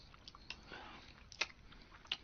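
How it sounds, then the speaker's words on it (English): Someone chewing a Pop-Tart loudly, with soft crunchy mouth noises and a few sharper bites and smacks scattered through a quiet room. "I didn't realize I was chewing that loud."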